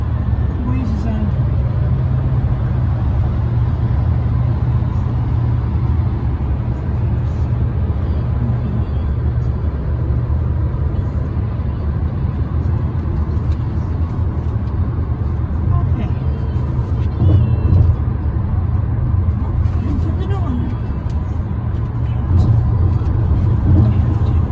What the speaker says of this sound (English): I'm going to take the Cadillac to the store.